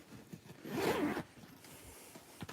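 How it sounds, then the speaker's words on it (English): Someone opens a small zipper pouch with a single quick zip that runs for about half a second, close and crisp, while faint handling rustles fall before and after it. "It comes in this little zipper pouch."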